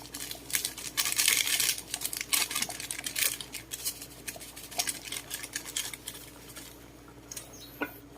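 A pig head dish with broth being mixed in a pot, with irregular scraping, clinking and sloshing of a utensil against the pot, busier at first and then sparser and quieter toward the end.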